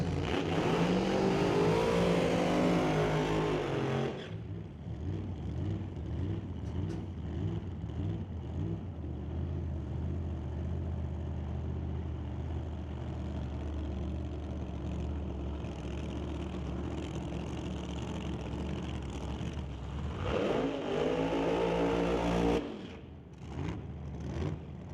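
Drag race cars at a door-car drag racing event run through burnouts, a loud sustained engine roar with revving surges that drops to a steady lower drone, then rises again before cutting off near the end.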